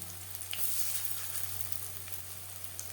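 Mustard flower fritters (bora) fry in hot oil with a soft, steady sizzle and a few faint pops, quiet and close, with no talk.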